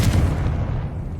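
A Confringo blasting spell detonates in Hogwarts Legacy, a loud, dense low boom that rumbles steadily for just over a second with no voices.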